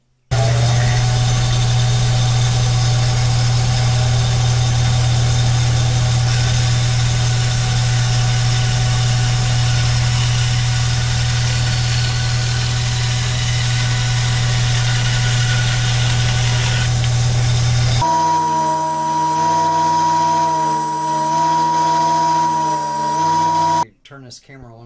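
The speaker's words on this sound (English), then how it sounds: "I got to cut that down on the bandsaw" A bandsaw cuts aluminum bar stock about 1¾ inches thick, giving a steady, loud mechanical whine and hum for around eighteen seconds before shifting to a lighter running drone that cuts off near the end.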